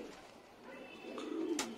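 A Madrasi pigeon coos softly in a short, faint low call that swells slightly toward the end, with a brief higher chirp at the close.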